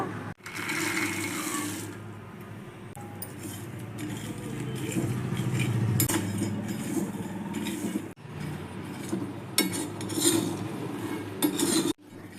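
Quarter kilo of peanuts stirred and roasted in hot salt in a pan, a steady gritty scraping and rustling with metallic clinks of the spoon against the pan, continuous and close, with brief breaks.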